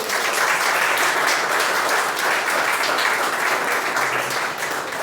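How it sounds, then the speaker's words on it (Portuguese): A church congregation applauds during a service, steady dense clapping filling the whole stretch at a loud, even level with no voices on top. "Vamos aplaudir."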